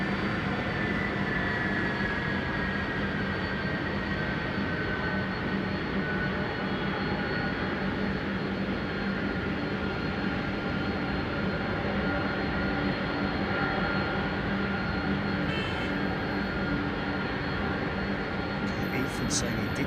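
Boeing 767 jet engines in flight, heard as a constant loud broadband roar and hum from inside the aircraft, unchanging across the whole stretch with faint tonal whines layered in.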